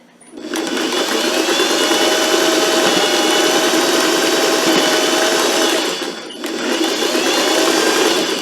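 A sewing machine stitching a fold-and-sew captured center square quilt block runs in a loud, continuous, close whir, pausing briefly near the end before starting up again.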